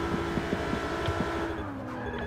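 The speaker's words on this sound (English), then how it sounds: "I can hear a car." Race car from the Forza Motorsport 6 video game, a steady engine whine with a slowly falling pitch, punctuated by short sharp ticks and brief squeal-like bursts, moderately loud throughout.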